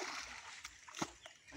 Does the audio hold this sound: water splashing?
yes